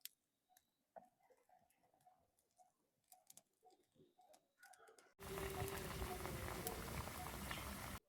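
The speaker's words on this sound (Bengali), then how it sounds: "তেল গরম হয়ে গেছে, এবার তেলে দিয়ে ভেজে নেবো।" Food dropped into hot oil in a wok for Bengali home-style deep-frying: after a quiet stretch of faint clinks, a loud dense sizzle suddenly bursts in and roars steadily to the end.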